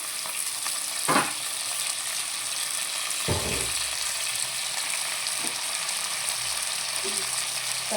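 Chopped tomatoes sizzle and fry steadily in a pan for a quick mushroom biryani, with a few soft stirring clunks over the continuous hiss; no one speaks.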